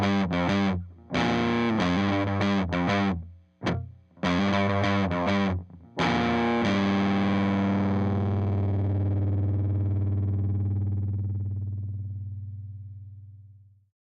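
Vintage-voiced fuzz pedal on electric guitar: loud distorted chords in choppy bursts with brief gaps, ending on a long sustained chord that rings out and slowly fades, with no talking.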